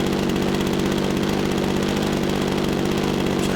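A model Spitfire aircraft's glow engine, swinging a coarse Menz 20x11 propeller, runs continuously while warming up, a loud, rapid buzzing drone with a steady pulsing beat, close and without voices.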